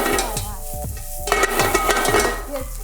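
Food is stir-fried in a wok, with a bright sizzle under rhythmic metallic scrapes and knocks of the spatula, repeated roughly every half second, close and lively.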